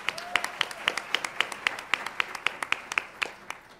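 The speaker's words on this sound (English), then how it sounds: "Give her a big round of applause." Regular, evenly spaced claps, roughly four per second, from a small audience at a Congressional Black Caucus Foundation legislative conference. The clapping is moderately quiet and sounds sparse rather than like a full crowd.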